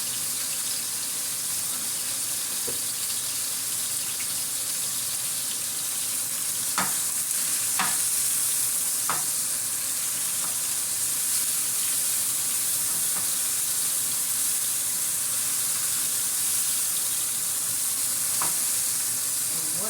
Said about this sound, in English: After they sear on both sides, I throw them right in here